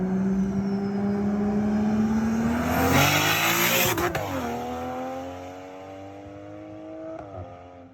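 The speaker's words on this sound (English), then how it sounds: "you like what it sounded like going past with the new turbo setup on it." TJ Hunt's Toyota Supra with a new turbo setup drives past, a loud engine note rising in pitch as it approaches and then dropping sharply as it passes and fades into the distance.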